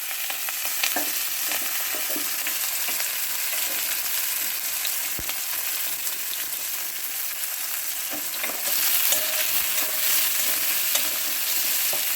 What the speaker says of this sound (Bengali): এখানে দিয়ে রসুন পেঁয়াজ কুচি আর লঙ্কা কুচি অ্যাড করে দিলাম।